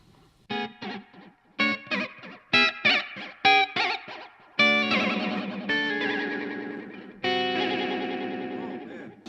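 Electric guitar through a Browne Amplification T4 fuzz pedal and BOSS SDE-3 digital delay at full modulation depth and rate, warbling echoes wobbling in pitch, first short choppy stabs, then longer sustained chords.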